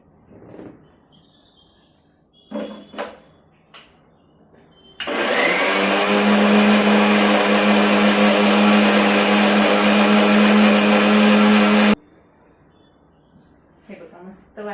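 A kitchen mixer grinds spinach for dhapate in a loud, continuous whirring burst of about seven seconds. Short bits of talk and handling noises come before and after it.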